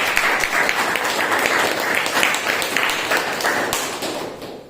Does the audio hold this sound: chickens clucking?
no